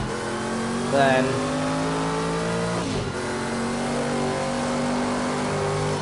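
Race car engines roar steadily in the Project Cars 2 racing game, with a rising rev sweep near the start and a second pass around the midpoint, continuous and fairly loud under brief commentary.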